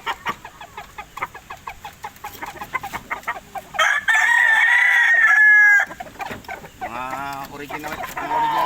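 Kelso lemon gamefowl roosters crow loudly and plainly in a long drawn-out call at close range, amid bursts of clucking and scratchy farmyard noise before and after.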